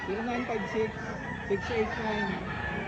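A White Kelso rooster crows loudly and close by, with clucking and other fowl noises mixed into a busy background at a poultry sale in Lipa, Batangas.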